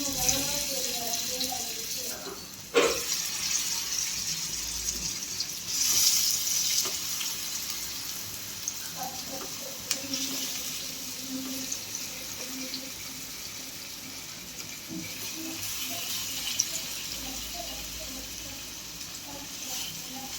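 Fish pieces hit hot peanut oil in a nonstick pan and sizzle steadily, with a clatter as pieces go down, a continuous frying hiss close by.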